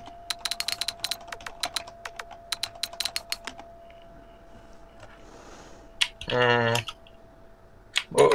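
Fast clicking and typing on a computer keyboard, heard as quick bursts of crisp keystrokes in uneven clusters, then a pause, a brief rasping buzz and a final click.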